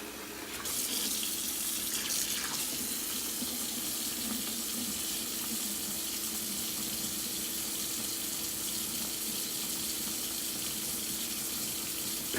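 Water runs steadily from a tap into a kitchen sink with a basket strainer and down its drain, a constant close rushing splash lasting the whole stretch, no voices.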